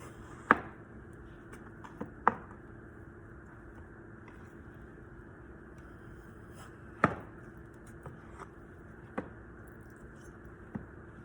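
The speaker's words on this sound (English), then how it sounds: "So we just make our little wedges." A knife cuts partly cooked potatoes into wedges on a cutting board, producing a handful of sharp, isolated chops spaced a second or more apart over a quiet steady background hum, close and without talk.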